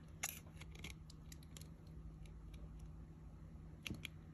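Faint, intermittent snips of scissors cutting through a thin metal tuna can lid, a few sharp clicks spaced apart in a quiet room.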